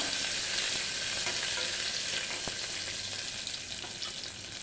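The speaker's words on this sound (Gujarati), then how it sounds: "આપણું જીરું ફૂટી ગયું છે હવે આપણે આ મીઠા લીમડાના પાન એડ કરીશું આ વાટેલા લીલા મરચાં લીધેલા છે" Cumin seeds, curry leaves and crushed green chillies sizzle and crackle steadily in hot oil, a dense frying hiss that holds for the whole stretch with a few sharper pops, close by and with no voices.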